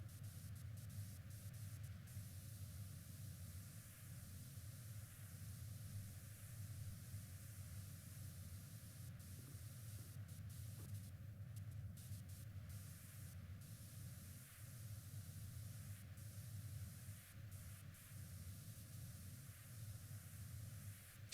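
A strong pressure washer nozzle spraying in the Power Wash Simulator video game, a steady, unbroken hissing rush of water that holds at an even level throughout.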